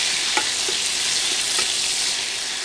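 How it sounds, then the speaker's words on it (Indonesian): Sambal terasi ingredients fry in cooking oil, giving a steady, close sizzle with a few soft stirring clicks throughout and no talking. "Kita goreng dulu rek ya."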